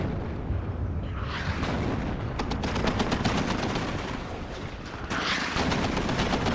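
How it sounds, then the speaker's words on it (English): .50 cal machine guns in WARNO rattle in rapid sustained bursts, with dense overlapping gunfire and distant explosions rumbling steadily across a busy battlefield. "These 50 cals, the work they do is just insane"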